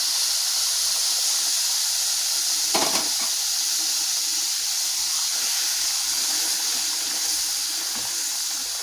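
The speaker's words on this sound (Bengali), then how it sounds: "অল্প অল্প করে দুধ দেব আর নাড়তে থাকবো" Boiled milk is poured a little at a time into semolina halwa as it is stirred in the pan, giving a steady, close hiss and sizzle with one short louder burst partway through.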